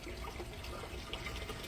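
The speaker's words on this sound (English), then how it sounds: "as it fills up with water" Water runs steadily as it fills a DIY bell siphon grow bed, a faint, continuous trickle with small splashes and no talking.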